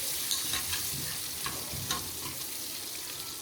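Ginger, garlic and four green chillies fry in a pan, giving a continuous soft sizzle with occasional scraping stirs and small pops, close and alone without talk.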